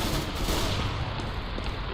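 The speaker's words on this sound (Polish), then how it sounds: "te strzały akacza to były takie... że tak się rozchodziły ciągle" Continuous AK-47 automatic fire in Counter-Strike: Global Offensive, a dense, loud, unbroken clatter of gunshots that fills the whole stretch with no talk over it.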